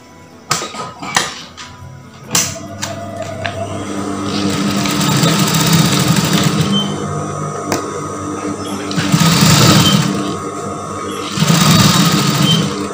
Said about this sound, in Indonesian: Kemudian ini kita jahit.